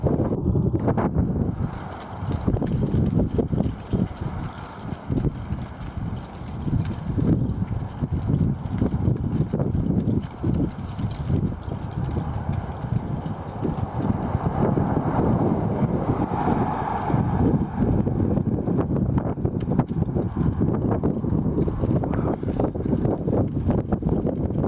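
Strong wind from a passing cold front buffets the microphone in a steady roar with surging gusts, loud and close throughout with no talking.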